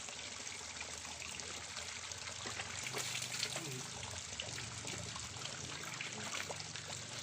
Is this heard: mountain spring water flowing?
yes